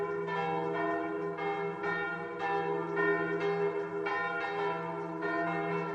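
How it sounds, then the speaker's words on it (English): Church bells ringing in Zadar, Croatia, a rich sustained peal of overlapping tones with steady repeated strikes, loud and continuous throughout with no talking. "the sound of church bells filled the air"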